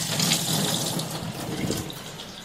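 A spoon is rinsed under a running kitchen tap, the water streaming steadily into the sink with a continuous splashing rush throughout, close by and with no talk.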